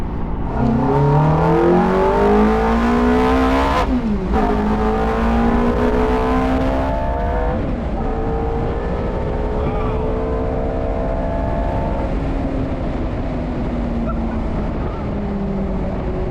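Gated six-speed manual Ferrari F430 V8 revving hard and climbing through the gears, with rising engine pitch swept up in repeated pulls broken by sharp upshifts, loud and close throughout, with people talking over it.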